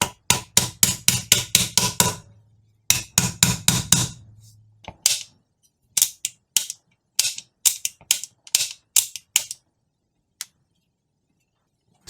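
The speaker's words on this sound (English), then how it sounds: "Tap the trigger box back into place." A trigger box is tapped back into a Tokyo Marui MWS airsoft rifle, giving sharp clicks and knocks in quick bursts that thin out to scattered single taps, close and alone.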